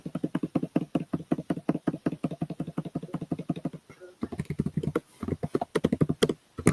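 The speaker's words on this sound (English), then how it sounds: "everyone who's watching the live stream can hear Jake typing like crazy, like a madman" Fast, heavy typing on a computer keyboard, a rapid even run of sharp clicks and clacks close by, with a brief pause before it resumes in bursts.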